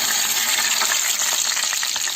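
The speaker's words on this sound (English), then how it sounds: "Now into this same oil, I'm going to put all the garam masalas" Whole garam masala spices for mutton yakhni pulao sizzle in hot oil left from frying onions, a steady bright crackle with faint stirring clicks and no talking.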